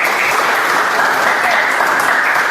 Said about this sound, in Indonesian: beri aplaus untuk Dita dan Santron